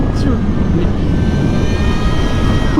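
Electric street fighter motorcycle, a 265 kg Energica, accelerating hard with a steady, loud, high-pitched electric whine and rushing wind noise throughout.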